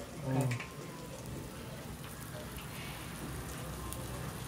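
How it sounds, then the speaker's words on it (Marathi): Steady patter of rain falling outside, a soft continuous hiss with faint drops, beneath a brief voice at the start. "बाहेर पाऊस पडतोय"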